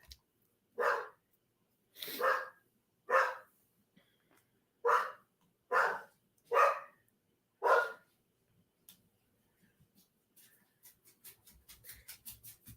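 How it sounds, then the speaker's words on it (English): A dog barks outside, seven distinct barks spaced about a second apart, followed by a faint run of quicker, softer yaps; the sound is moderately distant with quiet between barks. "Oh, there must be a dog outside."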